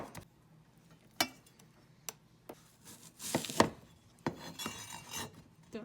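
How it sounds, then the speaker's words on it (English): Half a large washed, peeled carrot sliced thinly with a knife on a cutting board, giving sharp isolated chops spaced irregularly, then a quicker cluster of cuts with scraping, close and fairly quiet. "I'm going to use half a carrot because this one is a big one. And then I'm going to slice it thinly."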